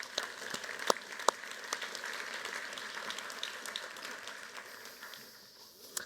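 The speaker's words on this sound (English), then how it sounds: "maybe just one round of applause for thanking all of our poster presenters" Brief, moderate applause from a conference audience thanking poster presenters at a scientific poster flash session, a steady wash of clapping with a few sharper individual claps, tapering off toward the end.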